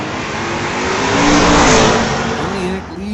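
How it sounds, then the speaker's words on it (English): A Pontiac GTO drag car accelerates hard at an old-time drag strip, its engine a loud, sustained roar that swells and then eases over a few seconds, with announcer talk underneath. "Pontiac GTO coming up Tower Side."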